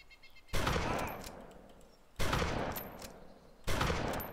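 Gunfire in the survival game DayZ comes as three loud, sharp bursts of shots spaced about a second and a half apart, each decaying into a long echo, with no talking.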